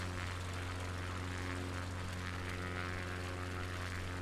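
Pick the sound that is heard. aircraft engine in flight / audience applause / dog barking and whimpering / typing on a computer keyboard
aircraft engine in flight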